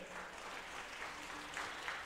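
A church congregation claps continuously, steady and fairly soft, heard at some distance, during a Sunday worship service.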